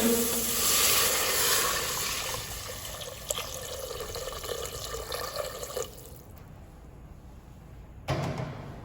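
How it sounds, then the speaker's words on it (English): Water pours into a pan of sautéed mushrooms for a stock, a close, steady liquid rush with hiss that thins and fades after several seconds, then a brief splash near the end. "Add water into it."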